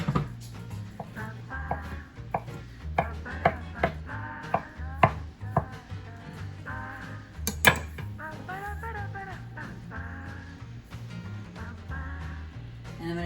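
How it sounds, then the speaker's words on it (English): A knife slicing and cubing cooked chicken breast from a Costco rotisserie chicken on a cutting board, a quick run of close, crisp knocks at an uneven rhythm, with no one speaking. "I'm just gonna start by cutting it and then loosely cubing it."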